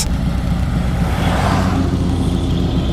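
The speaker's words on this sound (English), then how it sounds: "when these cars are passing, I can hear that almost as if I'm not wearing a helmet" Cars rush past on a road, heard from a rider wearing a Simpson Ghost Bandit motorcycle helmet, giving a steady, loud wash of traffic and engine noise that swells and fades over a few seconds.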